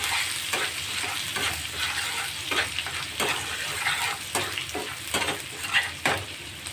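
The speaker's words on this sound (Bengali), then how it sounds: "হালকা করে ভেজে নেব মশলাটা, বেশিক্ষণ কিন্তু ভাজবো না," Mustard spice paste fries in hot oil with a continuous close sizzle. A spatula stirs and scrapes through it in irregular strokes, with no talking.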